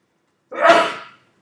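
A single short sneeze, sudden and close, lasting under a second against silence.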